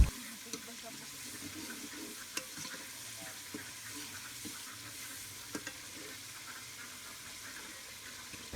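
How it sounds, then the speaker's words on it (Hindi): Garlic, ginger and dry coriander frying in a pot give a steady, close sizzle and hiss, with a few sharp knocks from a stirring spoon. "इसको 2-3 मिनट अच्छे से भून लेना है।"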